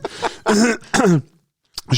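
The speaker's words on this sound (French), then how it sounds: "je me racle la gorge dans le micro" A close throat-clearing sound comes in a few rough voiced bursts, followed by a short silence and a faint click.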